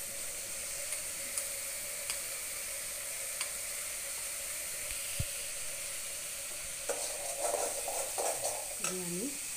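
Spices such as coriander, cumin, Kashmiri chilli, turmeric and salt with a little ginger fry in a pan, giving a steady soft sizzle with faint scraping strokes; near the end some brief voice-like sounds rise over the frying.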